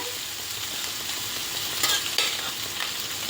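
Cooked rice stirred into a carrot mixture in a pan on low heat, giving a steady soft sizzle with a few scraping strokes near the middle, no voices.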